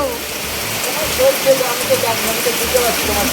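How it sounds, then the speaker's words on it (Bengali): Heavy rain pours steadily outside a house, a continuous dense hiss of drops striking surfaces, with scattered louder splashes throughout. "কি জোর বৃষ্টি হচ্ছে"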